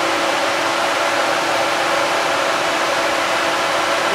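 A 16-inch electric cooling fan kit on a 4BT-swapped Ford F150 truck blows air with a steady, loud broadband whoosh that holds unchanged throughout, close by and with no talking.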